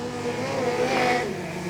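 A speedcar engine at a speedway drones unevenly at a distance, sounding rough and ragged, with no voices; the car has tail damage and a rear crash bar pushed sideways.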